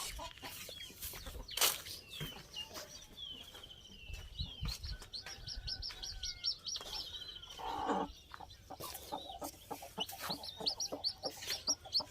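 Chickens cluck near a nest while chicks cheep and chirp, with a steady, busy mix of calls from close by and occasional louder squawks and rustling.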